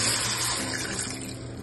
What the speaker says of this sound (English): I'm gonna add several cups of water.